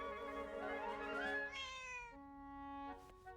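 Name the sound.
cat meowing in the video game Zelda: Echoes of Wisdom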